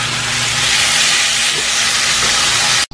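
Loud, steady sizzling hiss as lugaw ingredients sauté with fish sauce in a pan, a dense, continuous frying roar filling the space and cutting off abruptly at the very end.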